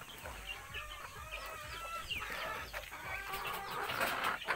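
Young chicks from a new backyard batch peep and cheep continuously, with small chirps overlapping close by amid some clucking, no talking.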